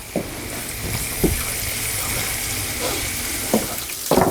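Steady, close sizzle of pork fat frying in a pan, with a few soft clinks and scrapes of a utensil against the metal.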